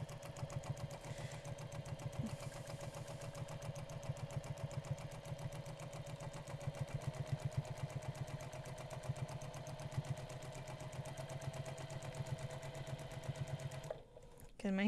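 A sewing machine runs steadily and close at hand, free-motion quilting circles on a quilt with a continuous buzzing whir that stops near the end.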